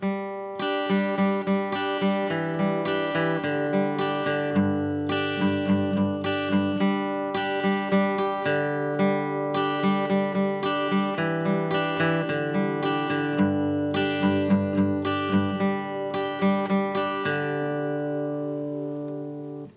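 A plucked acoustic guitar plays a flowing melodic interlude from a song, steady picked notes ringing over one another, close and clear, ending on a lingering final chord.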